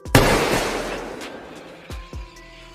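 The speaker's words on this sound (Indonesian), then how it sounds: "Yoshi dikagetkan dengan tembakan Kel" A gunshot cracks loudly in a jungle in a film, followed by a long, decaying echo and a couple of fainter, sharper reports afterward, with no voices.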